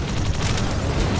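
A dense, loud blast of rumbling noise with crackling bursts, a close explosion in the video game Idle Zombie Waves.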